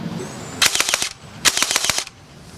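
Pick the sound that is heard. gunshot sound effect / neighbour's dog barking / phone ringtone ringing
gunshot sound effect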